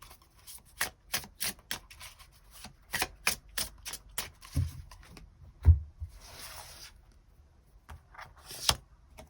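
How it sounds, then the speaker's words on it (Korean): Tarot cards shuffled and drawn by hand, a run of crisp riffling snaps and flicks with a few soft thumps and slides, close and fairly quiet with no talk. "추가 카드 뽑아보도록 하겠습니다"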